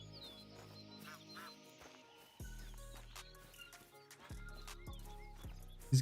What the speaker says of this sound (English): These geese sure are noisy today